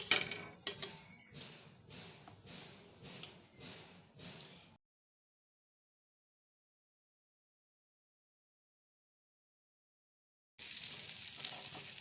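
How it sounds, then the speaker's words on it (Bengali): White oil sizzling faintly on a hot tawa while gola ruti is being made, with soft crackling and occasional light scraping for a few seconds before the sound cuts to silence, then a hiss returns at the end. "চাটু গরম হয়ে গেছে, এর উপর দিয়ে দেওয়া হলো সাদা তেল।"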